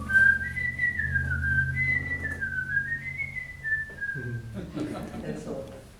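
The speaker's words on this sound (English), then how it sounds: "He made us learn to whistle all the songs from the HMS Pinafore by Gilbert and Sullivan" A person whistles a tune from Gilbert and Sullivan's HMS Pinafore, a clear melodic line held close for several seconds, then breaks off as talking begins.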